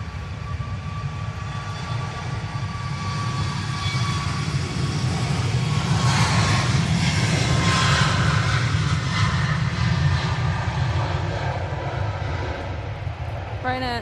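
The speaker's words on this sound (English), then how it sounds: "Ryanair 737 MAX 8 off to Faro." A Ryanair Boeing 737 MAX 8 jet taking off at Manchester Airport gives a loud, sustained engine roar that swells toward the middle and then holds, with a rumbling low end and no talk over it.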